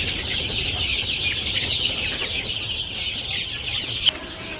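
Chickens cluck inside a coop after running about, a steady murmur of hen calls over a constant hum, with one brief knock near the end.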